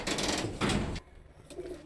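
Bhuchal pigeons give a brief, soft coo, heard close and quiet in a short snippet with faint room noise.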